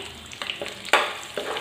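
Sliced onions dropped into hot oil after tempering with dried red chillies, cumin and seasoning seeds for a ladies' finger fry, giving a sudden loud sizzle that settles into steady frying crackle with stirring clinks.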